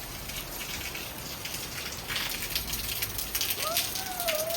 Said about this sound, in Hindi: अब बरसात का मौसम है